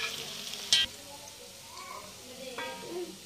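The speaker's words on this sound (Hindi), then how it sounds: "सारे बॉल को डाल दूंगी और फिर तेज आँच में फ्राई कर दूंगी।" Manchurian balls deep-fry in a kadai over high flame, a soft sizzle with one sharp crackling burst, with a voice faintly present.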